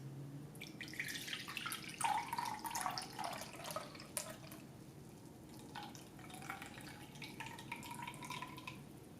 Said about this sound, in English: Pour out the juice.